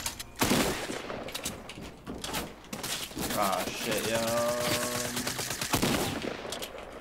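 Hand cannon pistol fire in Fortnite Battle Royale: loud, heavy shots crack out in bursts over the game's din while a player talks and swears close to the mic.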